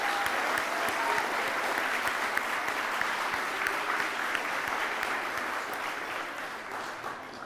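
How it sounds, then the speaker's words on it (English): A crowd applauds steadily and loudly with dense, continuous clapping that tapers off slightly toward the end. "please give them a round of applause."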